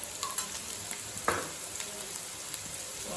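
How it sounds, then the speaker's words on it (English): Rice ingredients frying with Andhra mango pickle in a pan for a street-food egg fried rice, a steady close sizzle with scattered spatula scrapes and one louder stir. "Now fry for another 2 minutes"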